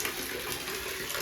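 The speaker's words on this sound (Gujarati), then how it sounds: "વરસાદ જોઈ શકો છો, ધોધમાર વરસાદ ચાલુ ચાલે" Heavy downpour in Vadnagar, with rainwater pouring down from above in a dense, steady roar that stays loud and unbroken throughout, with no voices.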